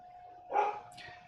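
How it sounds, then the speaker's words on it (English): A dog gives a single short indoor bark, quiet and somewhat distant, with a faint steady hum underneath. "Uh-oh, Isabel's barking at me."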